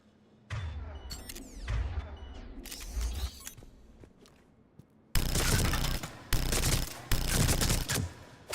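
Heavy automatic gunfire from a high-recoil weapon in the video game Mass Effect 3, with loud sustained bursts and shorter volleys alternating with brief pauses, close and dominant with no talk.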